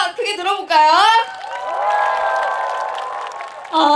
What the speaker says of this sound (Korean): 박수 소리 한번더 크게 들어볼까요?